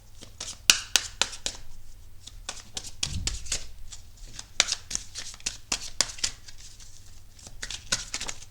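Tarot cards being shuffled by hand during a reading, a run of crisp riffling and slapping card sounds in irregular bursts, close and fairly quiet, with no talking over them.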